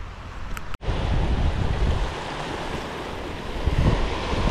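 Surf breaks onto a shallow beach gutter at high tide beside sandy flats, a steady loud wash of waves with wind buffeting the microphone, briefly cut by a short dropout near the start.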